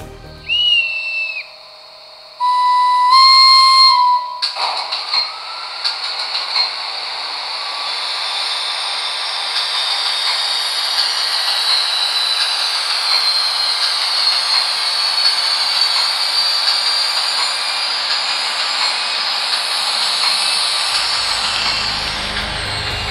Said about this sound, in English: A sound decoder in the digital versions provides comprehensive, prototypical sound and light functions, such as machine room lighting or the characteristic switchgear sparks.